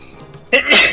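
A single sharp sneeze bursts out midway through a tabletop war-game session, loud and close after a quiet stretch of faint background murmur.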